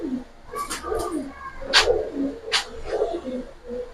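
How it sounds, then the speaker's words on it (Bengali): High flyer pigeons coo nearby in repeated soft, throaty calls, broken by a few sharp bursts that sound like wing flaps or scuffling. "হাই ফ্লার কবুতর দর্শক"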